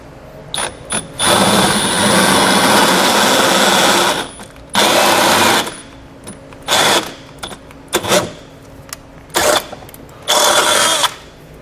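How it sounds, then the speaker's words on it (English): Several bursts of a power drill with a half-inch bit enlarging holes in a 2017 Audi Q3 for a trailer hitch, a long grinding run followed by shorter intermittent pulses with pauses between, close and fairly loud. "We're going to enlarge this with a 1/2-inch drill bit."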